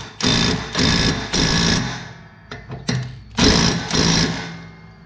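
Impact wrench tightening the blade back onto a Toro mower, torque turned down: several loud, rough bursts of hammering rattle, each lasting about a second, separated by short pauses and a few brief clanks.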